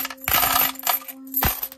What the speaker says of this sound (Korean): 동전은 이런 가짜 돈인데